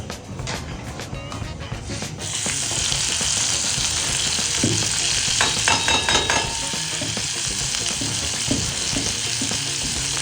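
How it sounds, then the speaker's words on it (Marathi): Chapatis cooking in ghee on a pan, a soft start giving way to a steady sizzling hiss with occasional clinks and scrapes of a utensil, close by and without talk. "मस्त तुपातल्या चपात्या होत आहेत"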